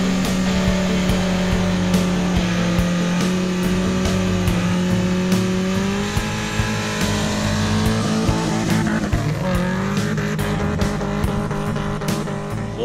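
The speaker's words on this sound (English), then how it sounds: "Second gear rubber is absolutely one of that car's favorite thing to do." A 1981 Camaro Z28 with a swapped LQ4 V8 roars through a second-gear burnout, its engine note holding steady and loud, then climbing in pitch as it revs higher near the end, with no talking.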